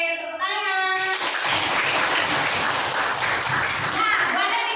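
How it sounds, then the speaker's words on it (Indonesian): Children clapping together in a classroom, a dense burst of applause lasting several seconds right after a short voice. "tepuk tangan"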